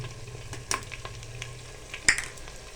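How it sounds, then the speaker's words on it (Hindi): Spices with turmeric sizzle softly in hot oil in a pan for aloo mongray while a spoon stirs and scrapes, giving a faint steady crackle with a couple of sharp clinks, no talking. "और मसाले को हम अच्छी तरह भूनेंगे"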